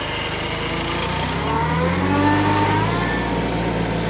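A tractor engine idles with the plow dropped at the field edge in first gear and four-wheel drive, a loud steady low drone that swells slightly midway, alone without talk.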